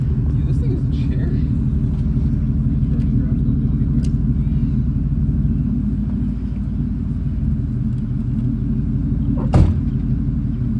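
A truck engine runs at a steady, heavy rumbling idle close by, with people talking over it and a brief clack near the end.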